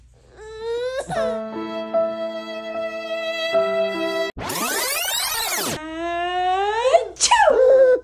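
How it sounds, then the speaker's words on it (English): A loud, explosive sneeze bursts out midway, framed by drawn-out whining, crying-like vocal sounds before and after. "Achoo!"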